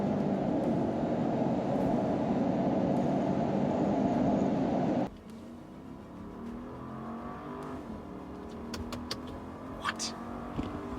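Lincoln Navigator and Cadillac Escalade SUVs accelerate side by side in a drag race, a loud continuous engine roar that drops off abruptly midway, leaving quieter road and wind noise with faint clicks.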